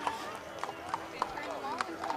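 Hooves of horses from a BC Horsemen Society chapter clip-clop on pavement in a fall fair parade, a steady near rhythm of sharp knocks under ongoing talk from an announcer.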